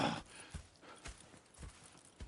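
Horse hooves clip-clop in Red Dead Redemption 2, a steady walking rhythm of four distinct, moderately close strikes evenly spaced across the moment.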